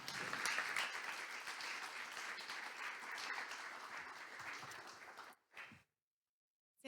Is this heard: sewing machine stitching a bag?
no